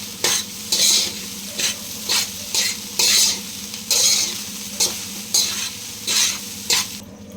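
Egg fried rice is stirred in a pan: a steady scrape-and-sizzle rhythm, with a loud stroke roughly every second over a continuous frying hiss, close and with no voices.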